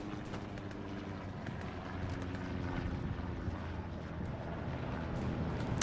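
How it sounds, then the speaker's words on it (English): Aircraft drone over a Hell Let Loose battlefield, a steady propeller engine rumble holding throughout with a slight swell, partly buried in broadband wind-like game noise. "Airhead plane coming in again"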